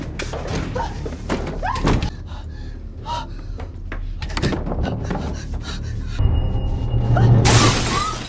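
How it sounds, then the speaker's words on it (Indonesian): Several heavy thuds and bangs of people knocking on and forcing a house door, then a bright crash of window glass breaking near the end, loud and close over a dramatic soundtrack. "tiba-tiba ada orang yang mengetuk pintu dan memaksa masuk"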